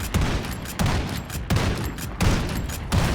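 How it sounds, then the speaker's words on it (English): Rapid bursts of MK2 Carbine fire from a Modern Warfare match, loud and close, with sharp repeated shots in several quick volleys spaced roughly every three-quarters of a second. "the fire rate on the weapon is actually quite fast"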